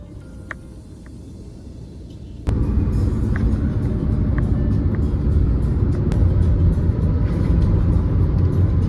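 A BMW car cruises at about 110 km/h, heard from inside as a loud, steady road rumble and wind roar that jumps up sharply after a quieter opening, with a few faint clicks over the top.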